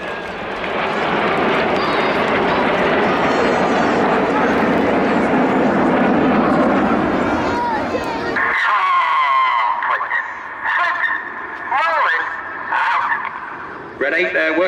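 Red Arrows jets in close formation at a Cleethorpes Armed Forces Day display give a loud, steady roar for about eight seconds. The roar then drops away abruptly, and crowd voices follow.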